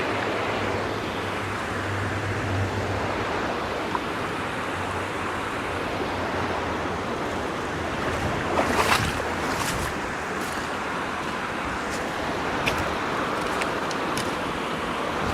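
Water rushing steadily while cruising in a boat on a Washington State outing, a broad continuous wash of spray and wind, close and loud, with occasional light splashes and no talk.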